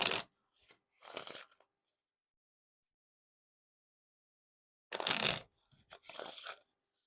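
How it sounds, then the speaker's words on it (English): Playing cards from an Orbit Cardistry-Con Second Edition deck being riffle or bridge shuffled, with two short bursts of crisp fluttering near the start and two more after a long silence, close and fairly quiet. "And now time for the riffle shuffle or bridge shuffle."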